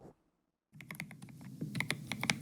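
Soft ASMR-style typing on a computer keyboard follows a brief silence, with quick irregular key taps growing busier and slightly louder, close and alone without talk.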